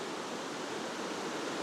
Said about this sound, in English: misty drizzly day in the forest by the river